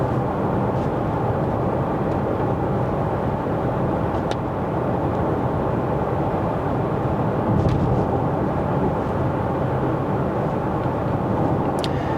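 Cabin noise inside an Audi e-tron GT electric car cruising at 80 km/h in Efficiency drive mode: a steady, loud broadband road and wind rumble, unbroken, with no talking.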